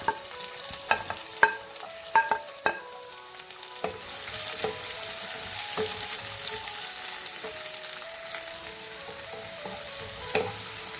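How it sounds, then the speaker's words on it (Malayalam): Chopped shallots sautéing in a pan for a Kerala potato fry give off a steady broadband sizzle, broken in the first few seconds by several sharp clinks of a spoon stirring against the pan, with one more scrape near the end. "ഞാൻ ചെറിയ ഉള്ളി അരിഞ്ഞതിൽ നമുക്ക് ഇതിലേക്ക് ഇട്ടൊന്ന് വഴറ്റിയെടുക്കാം"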